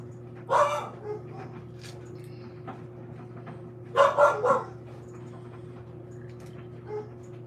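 Dogs barking indoors in two bursts of sharp, fairly close barks with yips in between, over a steady electrical hum and faint household sounds.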